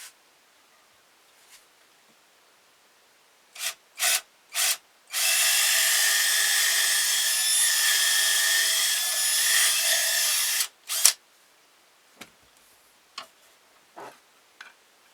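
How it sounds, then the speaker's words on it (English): A few short clicks, then a power drill with a 1/4 inch bit bores steadily into wood for about six seconds before stopping, followed by scattered taps and knocks. "So now I want to drill our hole in through here"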